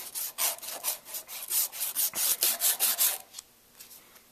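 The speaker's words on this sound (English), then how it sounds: "take this 400 grit sandpaper and we're just going to run it back and forth on here" Sandpaper of 400 grit rubbed back and forth on a surface while fitting a Z-kit patch, a quick run of about a dozen close, even scratchy strokes that stop short, leaving near quiet.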